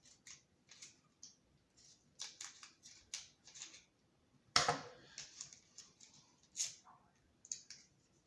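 Scissors snipping through the foil wrapper of a 1991 Upper Deck baseball card pack, a series of quiet close crinkly cuts and rustles with one sharper louder rip midway.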